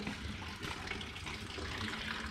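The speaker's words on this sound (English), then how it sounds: "It's gonna take forever for that antifreeze to drain." Antifreeze coolant drains from a John Deere 4640 tractor being split, a faint steady trickle and splash of liquid running continuously without pause.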